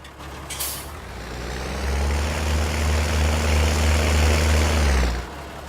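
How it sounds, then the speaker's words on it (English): A heavy diesel tractor engine in Farming Simulator 19 rumbles loudly and steadily, with a whining high tone riding over it, before cutting off near the end. "Tractor does sound awfully beefy, though."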